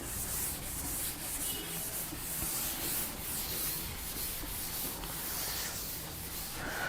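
Chalk writing is rubbed off a classroom blackboard with a duster in continuous scrubbing strokes, steady and fairly close, with no talk.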